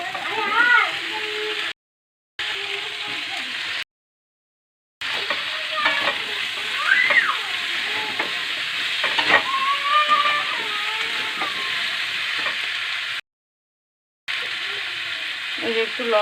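Pumpkin and Malabar spinach fry and get stirred in a pan, a steady sizzle and hiss with spoon scrapes, interrupted by short silent gaps while someone talks over it.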